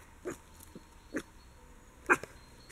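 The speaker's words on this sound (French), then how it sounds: "Vous avez la réaction de ma chienne?" A female dog reacts with a few short, sharp vocal bursts, whines and barks spaced out across a couple of seconds, fairly close and moderately loud against a quiet room.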